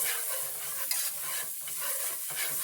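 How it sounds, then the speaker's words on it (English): Powdered garlic being whisked into a sauce in a pan for creamed spinach, a steady scraping, stirring swish with a soft sizzle underneath, continuous and close with no voices. "Next we're going to add some powdered garlic and continue to whisk it"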